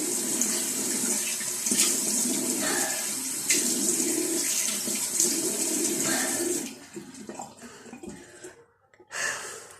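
Running tap water splashes as a face is washed with cold water at a sink, steady close gushing that thins out into scattered drips and splashes near the end, with no talk.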